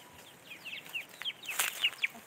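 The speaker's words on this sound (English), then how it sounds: "A small chicken." A small chicken clucks in a rapid run of short, bright calls, with a few sharper peeps near the end, fairly close and with no talk over it.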